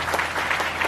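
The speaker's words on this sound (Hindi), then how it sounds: "इस भविष्य के बाद के लिए जोर से ताली बजाकर परमेश्वर को धन्यवाद" Audience applause fills a church youth seminar during a Hindi Bible message, a steady dense patter of clapping hands lasting the whole moment with no pause.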